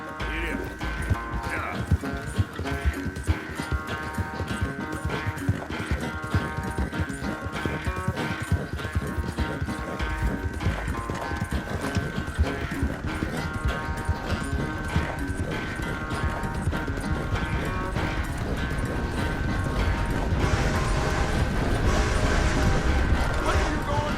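Horse hooves clop in a steady galloping rhythm during a ride in Red Dead Redemption 2, with creaking tack, under a sustained musical score and occasional character speech, building louder toward the end.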